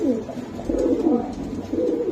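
Two female Maltese pigeons at a pigeon sale coo close by, low rolling calls repeating in a loose rhythm over a quiet indoor background.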